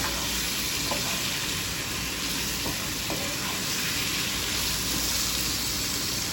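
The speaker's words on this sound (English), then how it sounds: "So heart goes in, we toss it around so that heart gets masalas wrapped around it." Pieces of heart meat sizzle steadily in a hot pan as they are tossed with masalas for a meat curry, a dense continuous frying hiss with a few faint stirring clicks and no talk.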